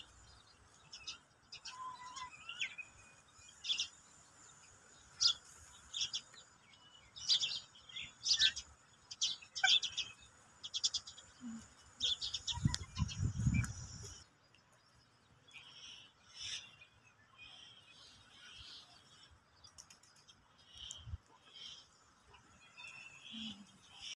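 Small birds chirp and tweet in quick bursts, near and far, with a low rumble and soft outdoor ambience in between.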